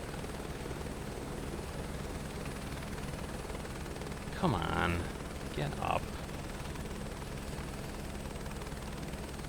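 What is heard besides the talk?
helicopter flying in the video game Microsoft Flight Simulator 2024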